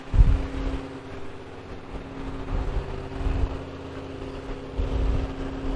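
A 1970 Rover P6 idles steadily, heard from the rear of the car: a low, even engine hum with a throbbing rumble and occasional heavier pulses, fairly loud and close, with a bit of wind noise.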